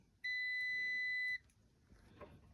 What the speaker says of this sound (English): it should beep every time I hit the other one